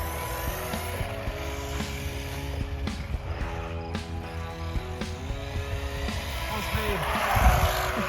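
An Arrma Typhon Grom RC car runs at 75% throttle, its small electric motor giving off a steady, buzzing whine with shifting tones. Tire and ground noise mix in, and the sound swells slightly near the end.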